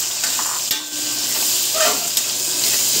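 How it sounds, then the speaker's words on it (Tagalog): Potatoes and carrots fry in a pan, a close, steady sizzle with occasional stirring scrapes and light clinks, no voices. "una natin gagawin ay iprituhin muna natin itong patatas at yung carrots."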